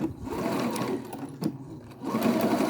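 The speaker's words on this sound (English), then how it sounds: "The next step is to put the fronts together and the backs together, face to face, and stitch the crotch seam." A sewing machine stitches a crotch seam on joined trouser fronts and backs in short bursts of fast mechanical whirring, with a brief pause and a small clack near the middle before it picks up again, close by.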